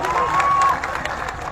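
A crowd at a gathering claps and cheers for itself, a dense, steady wash of applause and shouts that fades slightly toward the end, with a short whistle-like tone near the start.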